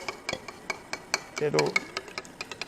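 Miso paste worked into dashi stock in a plastic miso bowl, light rhythmic taps and scrapes of a utensil against the bowl, close and soft, with talking over it.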